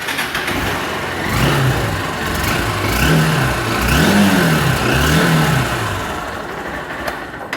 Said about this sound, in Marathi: तुम्हाला मी आता या बाईकचे साऊंड दाखवतो